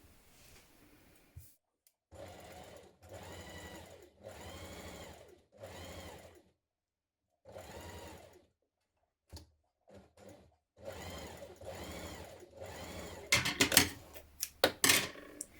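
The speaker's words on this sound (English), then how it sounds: "So you want your machine stitch on the long straight stitch." Sewing machine running long straight gathering stitches on fabric for children's dungarees, in several short bursts separated by pauses, fairly close, ending with a few louder clattering knocks.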